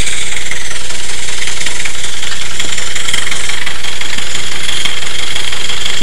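A small-scale live steam engine runs on compressed air, giving a continuous loud hissing, rattling mechanical chug with valve and piston motion throughout, with no voices.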